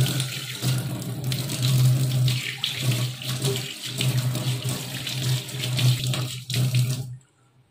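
Tap water runs steadily into a steel kitchen sink as it is washed and rinsed, a loud continuous splashing rush with slight shifts as the flow is moved, stopping abruptly at the end.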